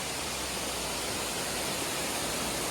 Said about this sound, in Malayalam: ഇവിടുന്ന് ഒരു വെള്ളച്ചാട്ടം ഇങ്ങനെ വരുന്നുണ്ട്